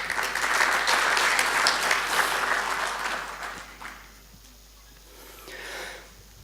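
An audience at a welcoming ceremony claps loudly and steadily for several seconds, then the applause thins and fades into quiet room noise with a brief late swell.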